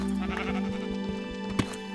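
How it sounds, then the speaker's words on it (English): Sheep bleat repeatedly in a video game, wavering cries layered over a steady hum, fairly close with no talk. "you all heard that sheep, right? There are sheep all around me."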